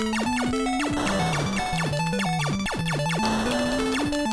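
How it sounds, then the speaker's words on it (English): Bright, chiptune-style 1-up sound from the game MagMax, blips and jingles in a quick, bouncy sequence, with rapid rising and falling tones stacked over each other. "I guess that was the 1-up sound effect."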